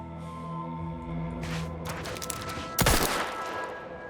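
A revolver in the game The Outer Worlds 2 fires rapidly from the hip, with several quick shots and a louder blast near the end over a low hum of game ambience.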